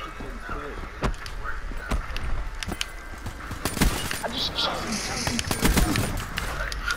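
Rapid gunfire crackles in the Call of Duty Black Ops III video game, with sharp bursts of shots scattered through the whole stretch under background game noise and a voice talking over it.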